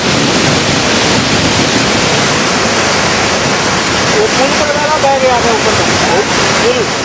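Floodwaters of the Bhagirathi River at Sangam Chatti, Uttarkashi, roar past during the monsoon in a loud, constant broadband rush, with no break across the whole stretch.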